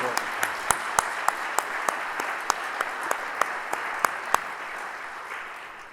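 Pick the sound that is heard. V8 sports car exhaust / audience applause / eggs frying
audience applause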